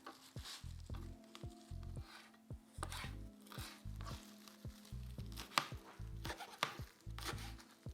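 Fresh mint and parsley are chopped by hand with a knife for a couscous salad, a quick, steady run of soft knife strokes on a board under a quiet, steady tonal background.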